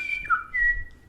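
A person whistles a short clear melodic phrase, gliding between a few sustained notes, close and unaccompanied.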